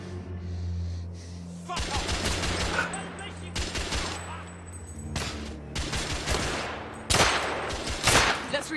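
Gunfire and cannon blasts from the video game The Order: 1886 come in heavy bursts of rapid shots and loud booms, with a voice shouting over the battle.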